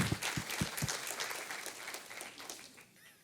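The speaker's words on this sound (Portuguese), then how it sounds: "Vamos aplaudir ao Senhor." A church congregation applauds in praise during a worship service, the clapping fading gradually toward the end under a low room murmur.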